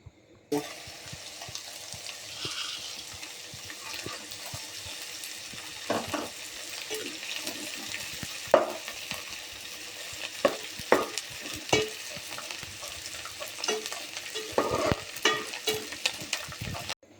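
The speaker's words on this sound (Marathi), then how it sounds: "आता आपण डिंक तळून घेऊया" Edible gum (dink) frying in ghee in a pan for fenugreek ladoo, a steady close sizzle broken by frequent scraping and clinking stirs, growing busier toward the end, no speech.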